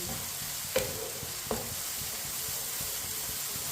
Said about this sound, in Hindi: टमाटर को 2-3 मिनट के लिए पका लेंगे।